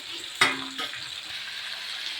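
Vegetables, including red potato, carrot, papaya, potato and plantain, fry in hot oil with a steady close sizzle, opened by a single dull knock.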